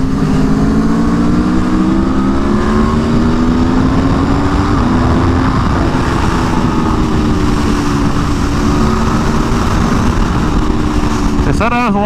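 A 2022 Aprilia Tuono V4 1100 Factory on a racetrack on a stock ECU gives a loud, continuous engine drone at close range from on board, pitch rising and falling through the gears with steady wind rush.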